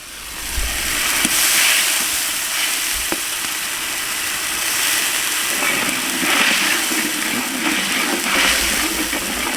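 Ginger and garlic fry in a hot pan for pani puri kurma, a loud close sizzle and bubbling hiss that swells midway, with a couple of sharp taps and a low rumble underneath.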